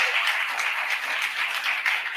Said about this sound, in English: Let's also give a big round of applause to all the teachers